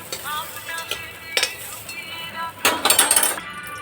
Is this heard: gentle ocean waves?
no